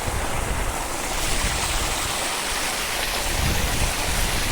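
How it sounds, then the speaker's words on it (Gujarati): Water rushes into a farm irrigation channel with a loud, continuous broadband roar close by, without pause or voices. "જોઈ શકો છો મિત્રો આપણે પાણી ચાલુ છે હવે પાણી આવે છે"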